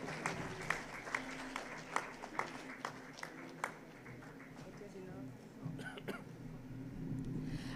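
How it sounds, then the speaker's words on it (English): Scattered claps ring out from a business conclave audience, a few sharp distinct hits at first that thin out over a murmuring room, fairly quiet and distant. "Can we have a big round of applause for them, please?"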